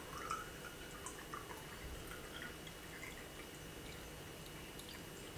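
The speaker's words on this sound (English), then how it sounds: "you're just gonna slowly start pouring your water in" Water trickles slowly and steadily into a small gongfu tea brewing vessel resting on a scale, a soft close drip-and-pour sound running for several seconds with no talking.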